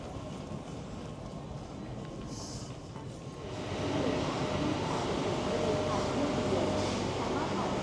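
Train travelling through Thailand toward Bangkok station, a steady rumbling and rolling drone that grows louder partway through and continues as a constant, close background noise with faint speech mixed in.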